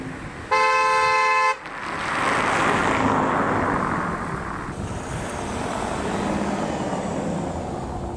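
A 2006 Jaguar S-Type 2.7 V6 BiTurbo sounds a short, loud warning chime, then the engine fires into a smooth, steady, whooshing idle heard from inside the cabin.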